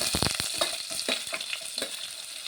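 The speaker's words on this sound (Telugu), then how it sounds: "ఈ పప్పు ఫ్రై అవుతుంది నేను ఆనియన్ వేస్తున్నాను" Onion, garlic and dal frying in a pan, with a steady broadband sizzle and a few clinks and stirring knocks near the start, no voices present.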